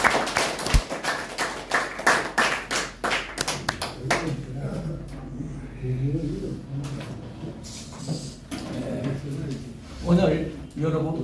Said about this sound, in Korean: 우리 박수로 환영하시죠.